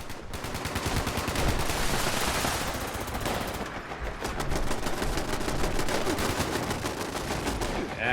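In Fallout 76, turrets fire constantly in rapid, loud, even bursts of machine-gun shots that keep going without a break.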